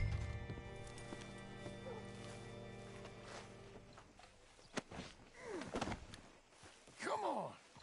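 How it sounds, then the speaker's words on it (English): Horse hooves clip-clop in a Wild West video game, a few distinct hoofbeats and a snort standing out toward the end over quiet ambience, with no talking. "Hitch your horse up here"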